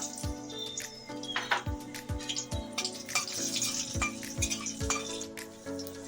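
Nigella seeds and slit green chillies fry in oil left from frying puti fish: a steady soft sizzle with a regular clink-and-knock of a spatula against the pan, no voices.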